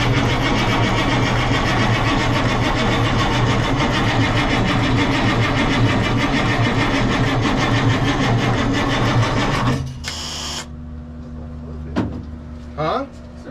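A Caterpillar 3208 diesel engine in a 1985 Ford C8000 truck cranks over loudly and steadily with a dense rumbling churn for about ten seconds, then stops abruptly, leaving a lower hum and faint movement noises.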